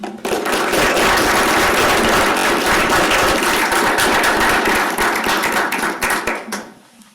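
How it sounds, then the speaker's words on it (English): Sustained applause from a seminar audience, many hands clapping in a dense, steady wash for about six seconds before tapering off and fading out. "let's give a round of applause again"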